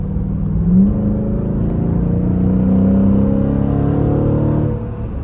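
A Dodge Durango R/T Plus engine in sport mode pulls hard from inside the cabin, a deep steady rising drone that climbs through the run and eases off at the end, with no talking.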